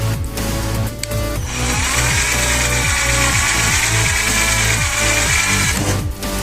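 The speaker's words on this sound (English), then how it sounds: "I'll start drilling in it." A power drill whirs loudly and steadily for several seconds as it bores into 8 mm plywood, with a grinding, chattering texture under the motor whine.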